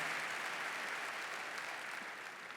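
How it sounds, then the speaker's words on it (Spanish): An audience at a morning talk forum applauding, a dense, even wash of clapping from many hands that holds steady and fades slightly toward the end. "Un fuerte aplauso, por favor."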